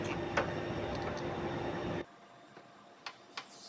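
Factory-charged pressure hissing out of a Haier floor-standing AC indoor unit during installation: a steady broadband hiss for about two seconds that cuts off abruptly, followed by a few faint clicks in a quiet room.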